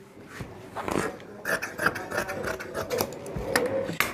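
Scissors cut through cloth as sleeves are shaped for a round frock, a close series of uneven rasping snips and rustles coming in quick irregular bursts.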